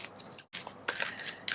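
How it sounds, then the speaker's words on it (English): A deck of oracle cards shuffled close up, giving soft papery riffles and flicks in short bursts with a brief pause midway, quiet and with no speech. "let's give it a shuffle"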